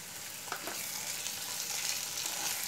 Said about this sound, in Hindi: अब जो अदरक लहसुन का पेस्ट लिया वो ऐड कर देती हूँ और ग्रीन चिली